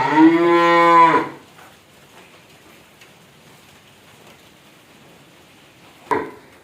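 On a cattle farm in Ishwardi, Pabna, a heifer gives one loud, close moo lasting about a second. A quiet stretch follows, then a brief sound near the end.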